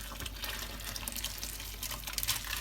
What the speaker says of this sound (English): I'm going to strain it first in this colander